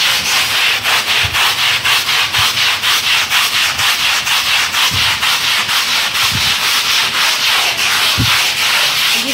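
A brush scrubs a wet carpet during washing in quick, even back-and-forth strokes, loud and close, with soft thuds underneath and no talking.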